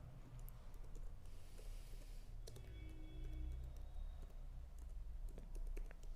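Keyboard typing of C program code on a computer, a run of light irregular key clicks at close range over a low room hum, with no talk.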